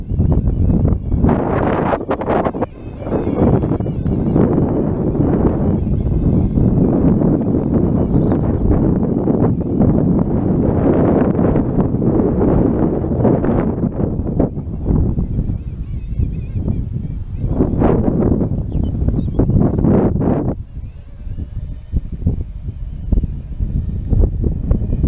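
Strong wind buffets the microphone outdoors while a model Airbus A380 is flown, a loud rough rumbling roar in uneven gusts that eases briefly a few times.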